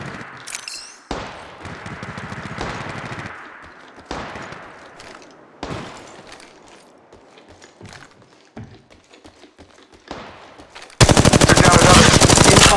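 Machine gun fire in Apex Legends Mobile, with repeated bursts of rapid shots separated by short pauses and a few single cracks, ending in a loud, dense blast of noise.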